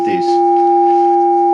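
Two steady detuned sine tones from a Hordijk modular frequency shifter, loud and continuous, with a brief spoken word at the very start.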